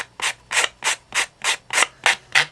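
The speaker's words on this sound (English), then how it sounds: "you're going to take the sanding block and you're going to just rub" Eight even strokes of a sanding block rubbing back and forth on a cut edge, brisk rhythmic scraping, close and alone.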